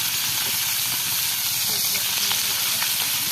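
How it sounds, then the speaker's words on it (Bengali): Fish sizzling in a pan, a close, continuous loud hiss and spatter of frying oil with small crackles, running steadily throughout. "আমাদের কঠিন মাছ ভাজতে আছি"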